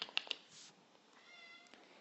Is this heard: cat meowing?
yes